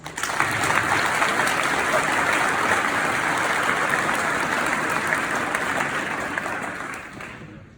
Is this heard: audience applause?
yes